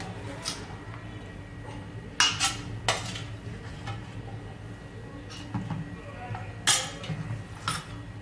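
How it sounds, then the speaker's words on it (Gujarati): Chopped vegetables and flour are mixed in a bowl for a Kathiyawadi snack, giving a soft background of stirring with scattered clinks and taps of a spoon against the bowl, close and quiet. "આપણે આ રીતે બધું મિક્સ કરી લઈશું."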